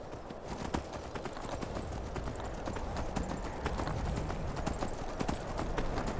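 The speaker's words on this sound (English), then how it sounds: "Just happened upon my own horse." Horse hooves clip-clopping in the Skyrim video game, a steady run of sharp, evenly paced hoof knocks over a dense ambient bed, fairly close and moderately loud.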